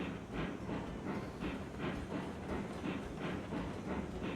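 A train rolls along the rails in Railroads Online with a steady rhythmic clickety-clack of wheels over rail joints and an even rumble, continuous and moderately quiet with no voices.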